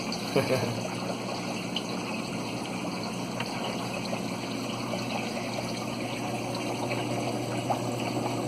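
A washing machine pump running in an aquarium sump, rated 5,000 liters per hour, gives a steady low hum with trickling water, faint and continuous.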